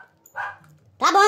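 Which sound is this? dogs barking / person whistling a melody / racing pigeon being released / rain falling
dogs barking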